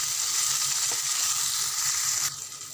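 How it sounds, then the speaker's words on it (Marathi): Finely chopped tomato frying in a pan for palak paneer, giving a loud, steady sizzle throughout that drops slightly in intensity near the end, with no talking. "तोही चांगला भाजून घेते"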